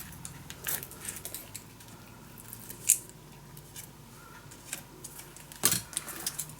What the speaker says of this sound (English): Peeling off the tape.